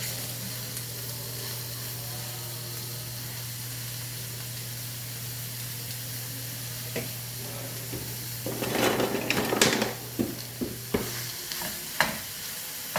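Ground brisket and pork browning in a pan sizzle steadily with a low hiss and a background hum, then louder stirring scrapes and crackles burst in near the end.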